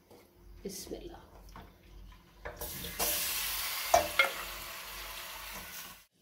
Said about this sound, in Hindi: ये देखिए मैंने चॉम्प्स जो है वो डाल दी हैं ऑयल में तमाम मसाले के साथ।